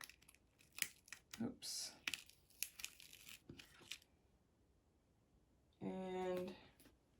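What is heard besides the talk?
masking tape being peeled off watercolor paper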